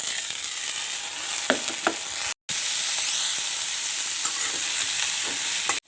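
Chopped sweet pumpkin tipped into browned onions in a frying pan sizzles in a steady, loud hiss, with a few soft stirring scrapes and one brief dropout, no voices.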